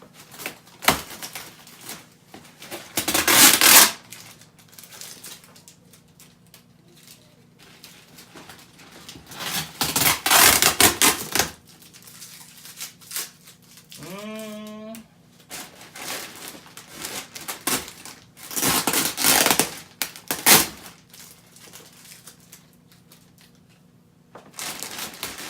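A knife slices and tears into the packaging around a VQ Warbirds Rare Bear Reno racer model, with several loud scraping, crunching bursts of a few seconds each, separated by quieter handling and one short squeak.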